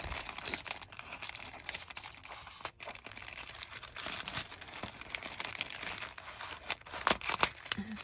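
Crafting noise while cutting string for a paper shaker pocket: continuous crinkling and rustling of paper and materials with scattered sharp snips and crunches, close and moderately loud, no talk.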